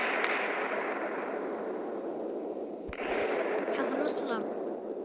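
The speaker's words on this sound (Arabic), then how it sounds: "تفجير" A planet blown up in a video game, a loud continuous roaring rumble with a sharp blast near the middle followed by crackling debris and a bright high whoosh, all close and dense.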